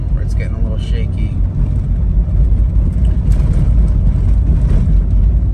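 A Toyota Land Cruiser rolls along at steady speed with a loud, continuous engine and road rumble and a shaking front end, while a voice talks over it.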